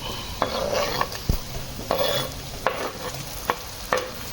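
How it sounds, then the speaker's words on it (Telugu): Tomatoes with a green chilli and salt mixture frying in a pan while being stirred, a continuous close sizzle broken by regular spatula scrapes and taps against the metal, with no talking. "టొమాటో బాగా వేయించుకున్న తర్వాత నానబెట్టి బయటికి తీసిన బొరుగుల్ని కలుపుకోవాలి"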